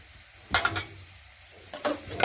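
Chili powder goes into hot tempering oil for a thin cabbage curry, bringing two short bursts of sizzling and scraping stirring against the pan over a faint steady hiss.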